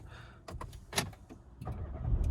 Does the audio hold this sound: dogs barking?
no